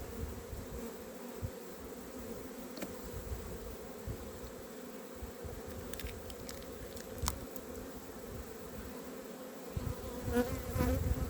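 A very strong honey bee colony in a nuc hums with a steady, close buzz, joined by a few faint clicks and light handling knocks.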